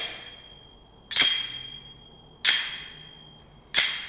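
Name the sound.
zills finger cymbals quiet clicking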